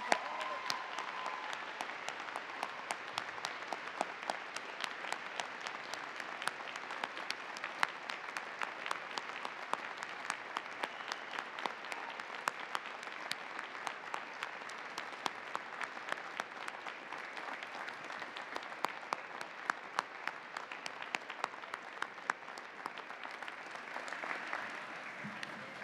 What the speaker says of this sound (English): give a huge round of applause to the people who supported you through it all